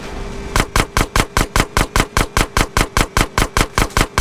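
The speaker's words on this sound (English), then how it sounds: "Shoot out the gate!" Rapid automatic gunfire shoots out a sewer gate in GTA San Andreas, a loud, evenly spaced burst of about eighteen shots in quick succession.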